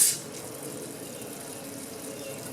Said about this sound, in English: we got the water back on, and it is pushing through the pump